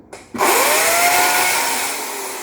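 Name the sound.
air conditioner running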